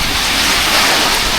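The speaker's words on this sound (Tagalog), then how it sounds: "ayun na guys, mahangin na at umuulan na." Steady roar of typhoon wind with rain hissing throughout, a dense broadband wash with no voices.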